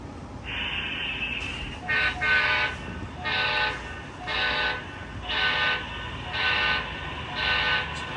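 HO scale model train running in reverse, a close electric motor whine that pulses in regular bursts about once a second alongside a faint mechanical hum, with no talking.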